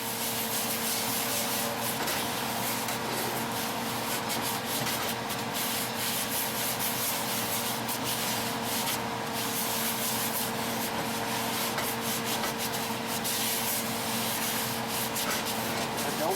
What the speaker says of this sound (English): Grab yourself a rolled up piece of paper towel and just go to town. Rub that salt